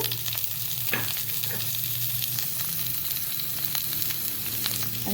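Tomatoes frying in coconut oil in a pan, a steady close sizzle with occasional crackles and soft stirring clicks throughout, no voices.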